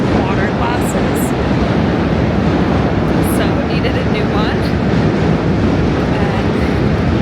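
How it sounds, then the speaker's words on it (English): A train arrives at a London station with a loud, continuous rumble and roar that dominates throughout, while a person talks over it. "And the train's coming."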